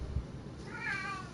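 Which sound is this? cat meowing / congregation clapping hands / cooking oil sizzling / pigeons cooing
cat meowing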